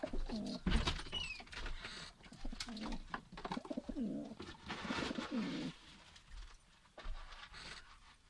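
Pigeons in a loft coo in soft, repeated throaty rolls close to the microphone, with rustling and shuffling around them. A few light chirps break through now and then.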